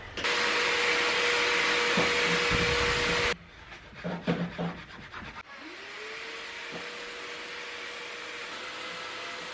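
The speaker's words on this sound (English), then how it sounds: "we're gonna start vacuuming this thing" A vacuum cleaner cleaning a dirty car seat roars loudly for a few seconds, then cuts off into brief scraping and rubbing, then restarts and spins back up to a steady, quieter whine.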